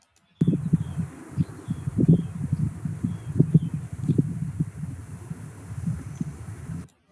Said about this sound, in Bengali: বাতাসের শব্দ ঠিক আছে